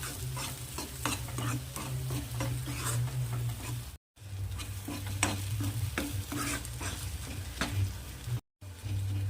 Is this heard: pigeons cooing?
no